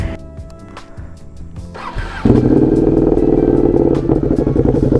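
A Ducati Streetfighter V2 motorcycle with an aftermarket exhaust starts up. Quiet idle-like clatter comes first, then the engine catches around two seconds in and settles into a loud, deep, steady rumble close by.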